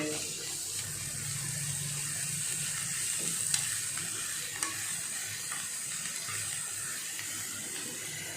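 Soft crackling sizzle of chopped cabbage hitting hot oil for a cabbage-chilli sambharo, fairly quiet and steady, with a few light clicks of a utensil.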